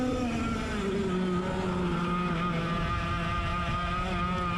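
A racing kart engine screams steadily at high revs during a club race on a kart track, loud and close throughout with a sustained buzzing whine and no speech.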